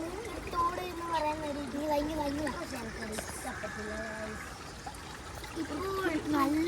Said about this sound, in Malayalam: ഒഴുക്കുള്ള വെള്ളമായിരുന്നു